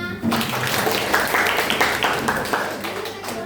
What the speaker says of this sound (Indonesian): Tepuk tangan untuk Mbak Irma.